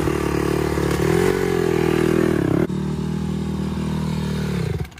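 Honda CRF150R dirt bike circling nearby with a steady, loud engine drone that rises and dips slightly as it rounds the turn. Near the end the pitch falls briefly and then settles again.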